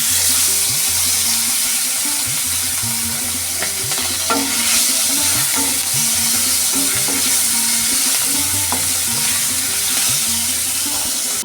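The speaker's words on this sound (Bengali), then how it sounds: "এখন আমি চিংড়ি মাছগুলো ভেজে নেব" Prawns fry in a pan, a steady loud sizzle that fills the whole stretch, with faint stirring clicks and scrapes beneath it and no talk.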